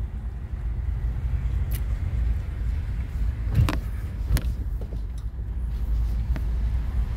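Cars roll past on a road in a low, continuous traffic rumble with wind noise, a couple of vehicles swishing by more distinctly near the middle.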